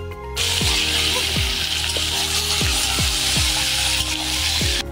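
A loud, steady frying hiss fills the air as mutton cooks in a pot outdoors at a family picnic, with regular low stirring scrapes every half second or so.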